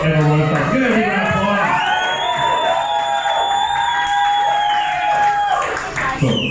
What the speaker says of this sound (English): Give it a big round of